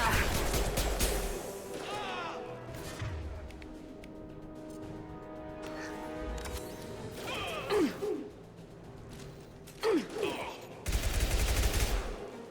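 Gunfire in the video game Mass Effect 2: bursts of shots and heavy blasts come in clusters between quieter stretches, mixed with other game effects and character voices.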